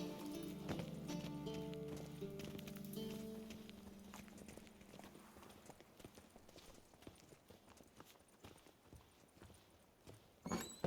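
Roach the horse's hooves clip-clop at a steady walking rhythm in The Witcher 3, close and moderately loud, with a low musical drone fading out early and a few sharper knocks near the end.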